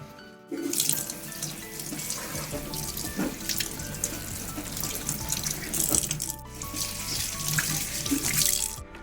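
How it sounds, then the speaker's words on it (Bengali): Tap water runs steadily into a sink while leaves are washed clean for steamed fish, with splashing and handling noises, briefly cut off and then resumed. "তো পাতাগুলোকে একটু ধুয়ে নিই পরিষ্কার করে"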